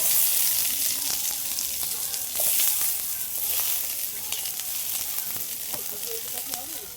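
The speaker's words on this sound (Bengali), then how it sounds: "একইভাবে পেঁয়াজগুলোও ভেজে নেব।" Onions frying in hot oil in a pan give a steady, close crackling sizzle that carries on throughout, with small pops and spits rising here and there.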